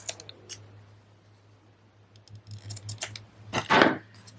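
Small scissors snip a tiny paper bow's legs, a few faint clicks followed by one crisp, louder cutting burst near the end over a low steady hum.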